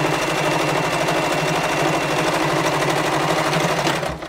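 A sewing machine runs steadily while stitching a 1 centimeter fabric seam, giving a loud, close, continuous rapid mechanical chatter that stops abruptly at the end.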